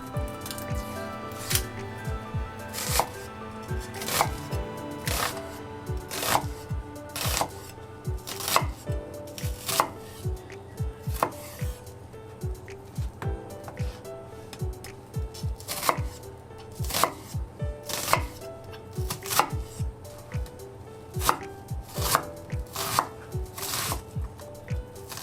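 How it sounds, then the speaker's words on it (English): Half a peeled yellow onion diced with a knife on a board for zucchini pasta sauce: crisp, quick chops in a steady rhythm, close and clear, with brief pauses and no talking. "Next, I'm going to peel and dice half a yellow onion."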